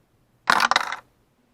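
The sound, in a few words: dice being rolled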